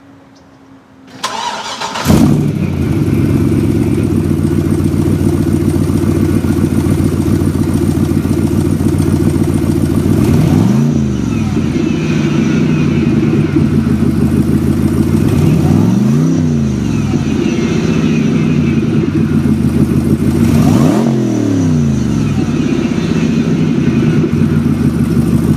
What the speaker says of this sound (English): we've got the LSA, which is the Cadillac CTSV supercharged engine